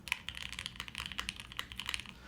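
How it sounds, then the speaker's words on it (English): Rapid mechanical keyboard typing on a HEX4B keyboard, close and crisp, with a steady stream of clacky keystrokes and no talking. "That's a good sounding spacebar."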